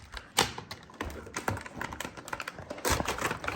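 Fingers type on an ordinary computer keyboard, producing a close, uneven clatter of key presses with a few sharper, louder strikes; no one speaks.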